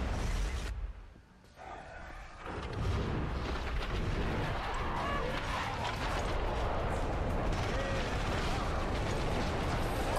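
Gunfire in the game The Darkness: a dense, continuous barrage of sharp shots and bursts after a brief lull, with a voice talking over the din.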